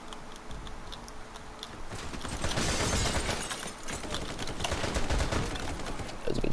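Rapid submachine-gun fire rattles in the Vietnam-era shooter game Military Conflict: Vietnam, starting as faint distant ticking bursts and then swelling into louder, dense rattling volleys with no talking over it.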